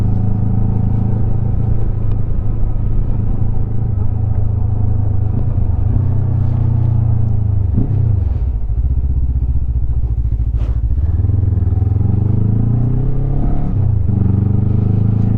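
A 2025 Lifan KPT 400 fuel-injected motorcycle engine hums steadily while riding on a lakeside road, a loud continuous rumble with wind rush and small shifts in pitch as the throttle eases and rises.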